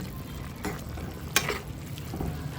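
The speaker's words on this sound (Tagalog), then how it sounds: "Ito na haluin na natin kasi medyo luto na yung ating gulay." Pork, chicken and vegetables for pancit sizzle in a pan while being stirred, a steady close frying hiss broken by a few sharper scrapes and clatters of the spatula, with no voices.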